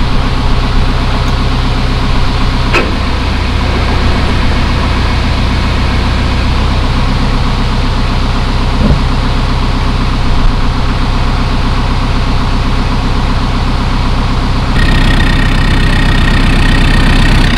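A loud, steady engine drone from a passing boat rumbles continuously and low, holding an even level throughout with no voices.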